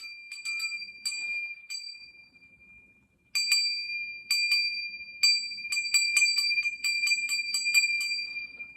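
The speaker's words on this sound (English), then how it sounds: "So, I have a bell, right?" A small bell struck repeatedly in a quiet room, bright clear rings in irregular clusters, some single and some rapid runs, each with a brief sustained tone, close and fairly soft with no talking.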